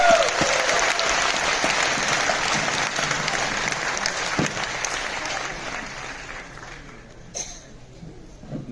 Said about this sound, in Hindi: इसके लिए तालियां